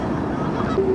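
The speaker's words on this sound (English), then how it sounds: "Just incredible, all these geese." A single goose honk rises briefly at the end of a short stretch of wind and water noise, from a flock of geese gathered at a park pond.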